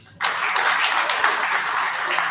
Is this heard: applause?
yes